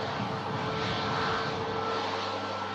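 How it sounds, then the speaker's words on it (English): An Egyptair airliner taxiing at an airport gives a steady, continuous engine roar and whine, moderately distant and even in level throughout, with no talk. "And the Egyptair should now be about to line up very soon."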